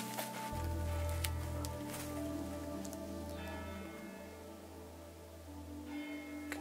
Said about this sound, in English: Can you hear the old village church bell?